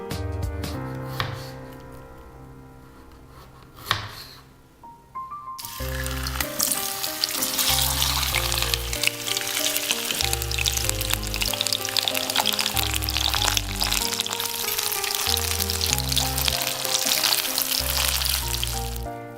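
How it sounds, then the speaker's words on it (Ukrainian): Potato slices drop into hot oil and start a loud, steady sizzle and crackle of frying in a pan, with background music underneath. "Картоплю нарізаємо крожальцями, обсмажуємо на сковорідці."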